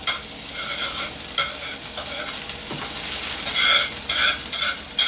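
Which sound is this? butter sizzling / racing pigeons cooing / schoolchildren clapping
butter sizzling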